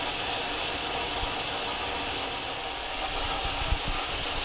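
A machine bores a smooth 3/4 inch hole through a chuck spindle adapter, giving a steady, even mechanical whir and hiss that holds constant with a faint low rumble and one small tick near the end.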